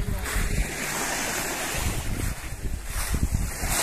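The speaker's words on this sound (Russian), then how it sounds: "Вот так выглядит пляж." Surf washing onto Mogren beach in Budva on the Adriatic Sea, a steady broadband roar with low rumbling swells, mixed with wind buffeting the microphone, and no voices.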